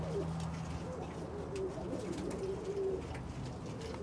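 Pigeons coo softly inside a loft housing meat-breed squabs, low murmuring calls repeating steadily over a continuous background hum on a cold night.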